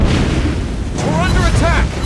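Naval shell hits land on an enemy ship in World of Warships Blitz, heard from a Tier 10 U.K. light cruiser, the Minotaur; loud booming impacts roll under a busy mix with a synthetic voice announcing alerts.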